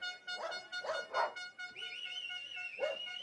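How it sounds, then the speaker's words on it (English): Dogs bark and whimper in short repeated bursts beside a downhill urban mountain bike race in Valparaiso, followed by a drawn-out howl, moderately loud and fairly near. "Those dogs sound hungry to me."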